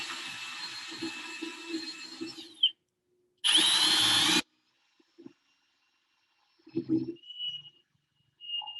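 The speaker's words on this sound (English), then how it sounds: "so we're gonna drill our access hole first." A power drill whirs steadily for a couple of seconds, then a short second burst bites into wood, drilling an access hole in a cabinet top, followed by quiet handling noises.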